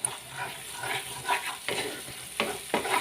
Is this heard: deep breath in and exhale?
no